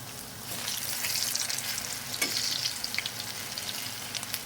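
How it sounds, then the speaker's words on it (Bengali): Gentle, crackling sizzle of potato pakoras frying in oil, with small pops and a few soft clinks, fairly quiet and close. "এখন উল্টো পিঠটা ভালো করে ভেজে নিতে হবে।"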